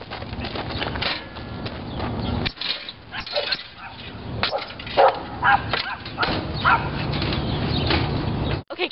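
Several dogs barking sharply and repeatedly in short bursts nearby, with creaking and rattling mechanical noises in the background across the whole stretch.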